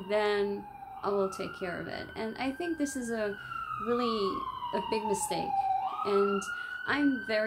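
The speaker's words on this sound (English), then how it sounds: "So I'm sorry for the siren again." A wailing siren rises and falls in the background while a person talks continuously over it, the siren moderately loud and steady.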